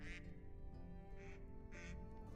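Ducks in the Medieval Dynasty game giving three short nasal quacks at a steady pace over a continuous low ambient hum.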